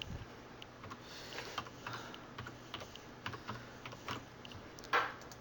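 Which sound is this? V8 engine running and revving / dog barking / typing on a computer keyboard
typing on a computer keyboard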